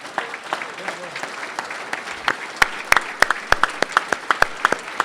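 Audience applause for a jury at a Smart Cities Challenge event, a dense patter of many hands that grows into sharper, louder individual claps toward the end, with faint voices beneath.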